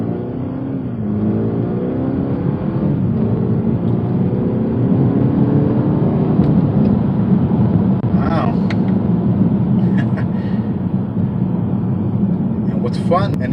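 A BMW 430i F36 automatic accelerating on the road, a steady loud engine drone rising in pitch through the gears, heard from inside the car under a voice.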